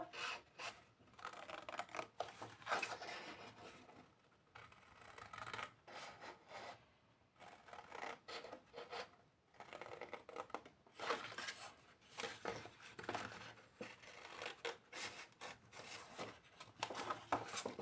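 Paper templates are cut out with scissors, producing quiet, close snipping and rustling in uneven bursts with short pauses, no talking over it.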